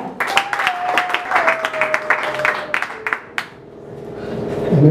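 Applause rings out at an installation ceremony, a crowd clapping briskly and fairly close for about three seconds before thinning into scattered claps and a low murmur, with a sustained tone running beneath it.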